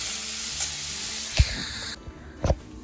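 Onions fry and brown for tomato chutney, giving a steady close sizzling hiss with a couple of soft utensil knocks toward the end, and no talking.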